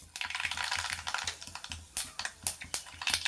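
Mustard seeds spluttering in a hot frying pan: a dense, close run of sharp crackling pops and ticks, fairly quiet, over a steady low pulsing underneath.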